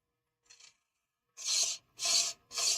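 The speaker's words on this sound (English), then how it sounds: "I'm going to use some coarse sandpaper." Coarse sandpaper rasps against a pen blank spinning on a lathe. A brief faint touch comes first, then three close, harsh, evenly spaced scratchy strokes, each about half a second long.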